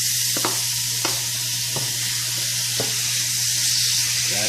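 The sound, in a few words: chicken frying in a pan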